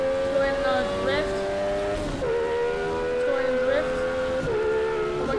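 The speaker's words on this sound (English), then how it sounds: "These, the car sounds are absolutely amazing." Car engines revving and shifting gears while drifting on a drift course in the Roblox game Vehicle Simulator, a steady loud engine note that rises and drops with each shift, with talk over it.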